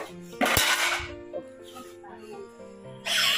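A pressure cooker lid and metal pots clatter in a home kitchen, with a sharp burst of clanking, a few lighter knocks and a second rattle at the end, all close and fairly loud.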